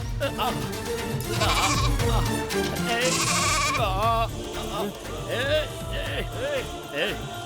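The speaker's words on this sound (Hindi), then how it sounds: "अंदर से कुछ बकरियों की आवाज आ रही है" Goats bleat repeatedly from a nearby enclosure in a Hindi-dubbed film scene, several wavering calls overlapping with loud dialogue and background music.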